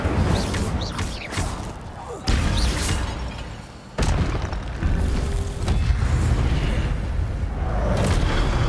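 Spells cast in Hogwarts Legacy, the Incendio fire spell among them, burst out as several heavy booms and crashes with whooshing tails, loud and close, at irregular intervals.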